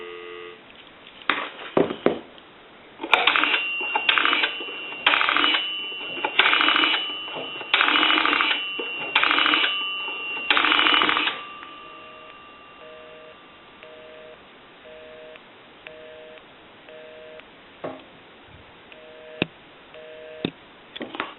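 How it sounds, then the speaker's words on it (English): A three-slot chrome payphone dials out with a string of rapid touch-tone beeps, then a repeating ringback tone pulses steadily over the line, with occasional clicks. "So we know that the telephone is dialing out"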